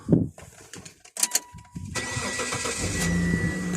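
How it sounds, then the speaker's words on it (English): A Mitsubishi Outlander's engine is started: a few quiet clicks, then the starter cranks and the engine catches and settles into a steady, close idle. "let's start the car."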